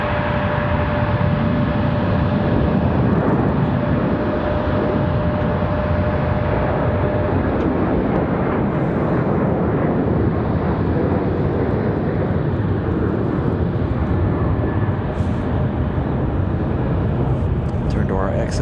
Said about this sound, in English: We've got that Delta 737 departure.